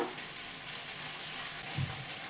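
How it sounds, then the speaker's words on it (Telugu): Mint chutney, pudina pachadi made as a pickle to keep, frying in oil in a pan until the moisture is gone, giving a steady, soft hiss of sizzling with a faint stirring bump near the end and no talking. "బాగా ఫ్రై అవ్వాలి, అసలు తడి అనేది లేకుండా."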